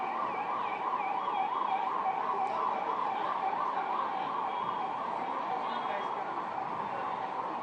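Wailing ambulance sirens from a fleet of 108 emergency ambulances at a free ambulance service launch event, a steady oscillating loud wail running continuously throughout, with faint crowd noise beneath.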